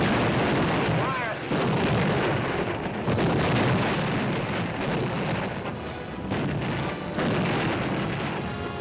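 Artillery firing in a WWII newsreel sounds as dense, rumbling booms and crackling blasts that continue without a break, loud and roughly recorded in old film sound.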